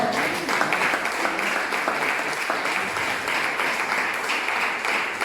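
A church congregation claps together in praise of the Lord during an Easter sermon, a steady, full wall of applause lasting several seconds.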